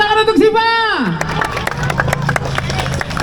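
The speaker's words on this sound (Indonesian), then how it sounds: "Tepuk tangan untuk Siva." A crowd clapping at a telolet bus horn fans' anniversary gathering in CBD Ciledug. A short tonal sound comes first, then scattered, fairly close claps continue under people talking.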